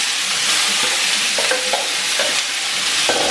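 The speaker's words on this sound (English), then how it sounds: "So I'm just gonna saute this real quick." Shrimp sauté in a hot pan with avocado oil, giving a steady loud sizzle with occasional scrapes and clinks of a utensil stirring.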